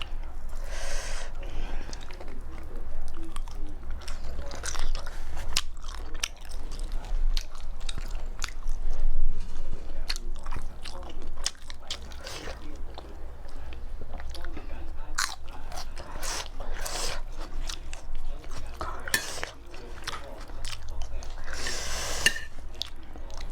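Someone eats Lao papaya salad with duck, making close, wet, crunchy chewing and biting sounds throughout, with some speech now and then.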